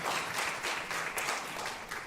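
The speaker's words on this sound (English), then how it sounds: "I'll pause for a second for you to clap." A concert audience at a patriotic cantata claps in a brief, fairly soft burst of applause, many hands blending into an even patter for about two seconds.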